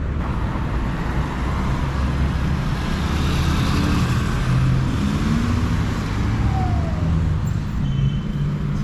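Dense car traffic on a city street in San Salvador rumbles steadily and loudly nearby, with engines passing and a faint siren-like tone rising briefly partway through.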